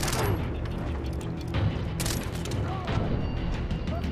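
Bursts of Vector submachine gun fire in Far Cry 3, rapid crackling volleys with occasional heavier booms layered over a busy combat backdrop, while someone talks over it.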